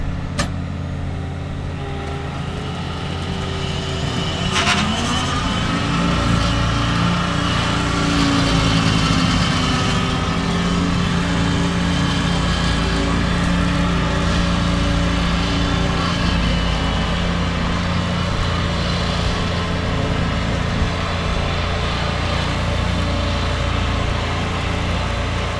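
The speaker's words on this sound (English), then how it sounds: "We got all done our brush mowing for the afternoon, and it went really well." A new skid steer brush mowing roadside ditches gives a steady, loud engine drone with a mower whine that rises in pitch early on, then holds constant and close, with no voices.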